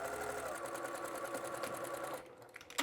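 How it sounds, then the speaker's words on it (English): A sewing machine runs fast and steady while stitching a quarter-inch seam in a cotton quilt with cotton thread, then stops briefly near the end before a short burst of handling noise. "I'm back stitching at every beginning and end of every seam, 1/4 inch seam allowance, cotton threads."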